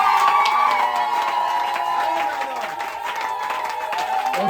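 A church congregation applauds and cheers at a worship service, steady dense clapping with scattered shouts filling the whole stretch at a loud, even level, easing slightly partway through.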